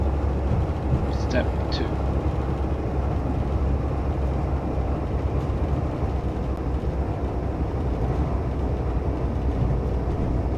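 A Class 165 diesel multiple unit in Train Sim 2019 slows for the short platforms at Radley, giving a steady, loud rolling rumble with a couple of brief high squeals near the start, under continuous talk.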